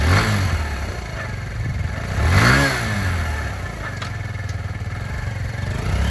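A used 2021 Kawasaki Z125 Pro minimoto motorcycle engine running close by, idling steadily with one brief rev that rises and falls midway, then settles back to a loud, even idle.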